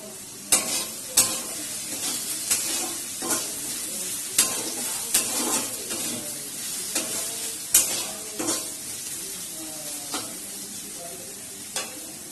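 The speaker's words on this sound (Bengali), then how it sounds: "মশলাটা এবার ভাজা ভাজা হয়ে গেছে" Spices sizzle in a hot pan while a spoon stirs them, scraping sharply every second or so over a steady frying crackle, before flattened rice is added for pulao.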